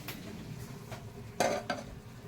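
A metal lid comes off a pot of milk heating on a home stove, two close clanks in quick succession over a low background hum of cooking.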